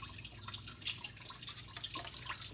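Coolant trickles and drips steadily from a Fox Body Mustang 5.0 V8 engine as it drains, a continuous close splashing, watery patter with scattered louder drips and no talk.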